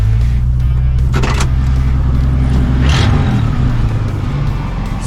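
A 1976 Chevrolet Nova's engine runs steadily and loud, close by, while the car backs up, with a brief rise in revs partway through and no talk over it.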